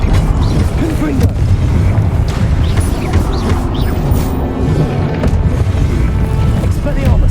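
Loud, continuous booming blasts from the Confringo explosion spell in Hogwarts Legacy roar without pause, with a voice faintly mixed into the din.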